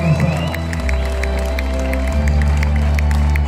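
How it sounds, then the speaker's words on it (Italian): At a live Christmas concert in 2023 in Koper, Slovenia, the audience claps and cheers for singer Sara, steady crowd noise running under sustained keyboard and bass tones that shift partway through. "Ecco l'applauso per Sara."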